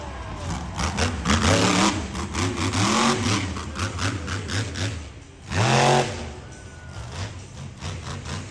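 A monster truck engine revs hard in a loud, rough roar at a muddy night show, surging and falling in waves with a big burst near the end.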